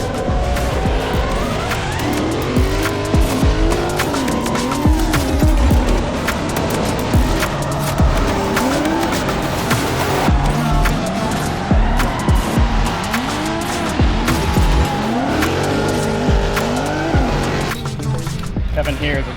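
A pro drift car slides around the US Drift Circuit track, its engine roaring loud and steady while the tires squeal in long, wavering screeches throughout, with people talking faintly underneath.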